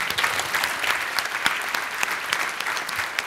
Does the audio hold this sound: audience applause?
yes